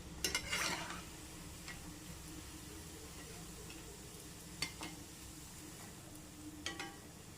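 A homemade Kerala teatime snack frying in hot oil is stirred with a ladle, giving a low steady sizzle with a few sharp metallic scrapes near the start and again later, with no one speaking.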